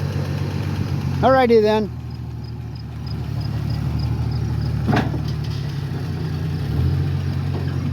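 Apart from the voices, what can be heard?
vehicle engine idling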